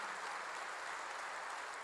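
A church congregation applauds during a sermon, a dense, even wash of many hands clapping that holds steady and fairly distant throughout.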